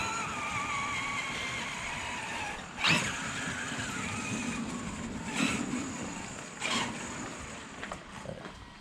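A Traxxas X-Maxx 8S RC truck driving, a steady whining electric motor drone with rising surges and revving bursts, heard fairly close and alone.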